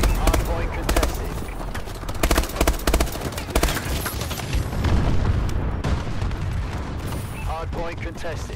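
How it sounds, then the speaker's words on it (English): Dense, continuous gunfire and explosions from a friendly bombing run during an Advanced Warfare hardpoint match, with rapid bursts and heavy booms throughout and an announcer-style voice speaking over the din. "Friendly bombing run clearing the way."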